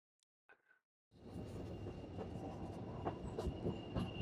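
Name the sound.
White Pass narrow gauge train passing through tunnels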